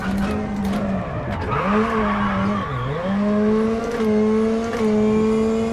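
A rally car on German tarmac in WRC 10 roars close and loud, its engine note rising and dropping through gear shifts and braking, with a brief tire skid.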